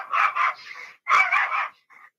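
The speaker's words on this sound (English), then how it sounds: "Do you hear my puppy?" A small puppy yips and barks in quick bursts, ending with a soft, high whimper; close and fairly loud.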